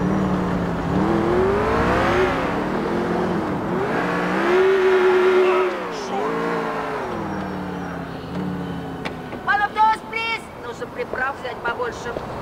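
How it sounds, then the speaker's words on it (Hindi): Car engine in GTA 4 hums and revs steadily, pitch rising and falling as the vehicle accelerates and slows, loud and continuous, with brief clattering knocks near the end. "ये थोड़ा GTA 4 में गाड़ी ड्राइव करना डिफिकल्ट है"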